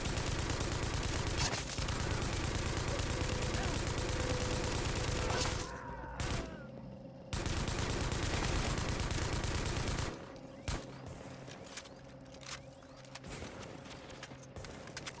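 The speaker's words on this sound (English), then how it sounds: "I'm shooting from the balcony." Gunfire rattles from the video game The Division as rapid automatic bursts fired from a balcony, dense and continuous at first, then broken by brief pauses and scattered shots amid ambient game noise.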